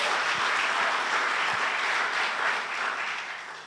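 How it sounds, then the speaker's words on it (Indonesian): A church congregation claps and applauds at a Sunday worship service, a steady dense wash of hands that stays loud throughout and fades slightly at the end. "Beri tepuk tangan buat Tuhan Yesus."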